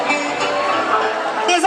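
Crowd at a university integration day cheering and shouting for the Djiboutian students, a loud, continuous roar of voices and whoops filling the whole short burst.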